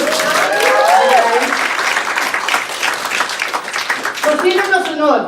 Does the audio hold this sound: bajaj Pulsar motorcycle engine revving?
no